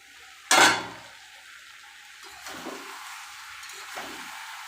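A sharp metal clank of a spoon against the pan opens, followed by softer scraping stirs of taro stolons with prawns in a pan, close and with no talk.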